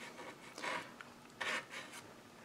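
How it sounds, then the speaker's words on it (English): Paint being scratched off a painted wooden farmhouse windmill, heard as soft rasping scrapes in a few short bursts, close and fairly quiet, with no talking. "that paint just scratches off"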